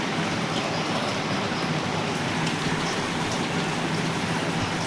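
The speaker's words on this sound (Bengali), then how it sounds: "এখন কিনা বৃষ্টি হচ্ছে বাইরে।" Steady rain falling outside, a dense continuous hiss of drops on surfaces at even loudness throughout, with no talking.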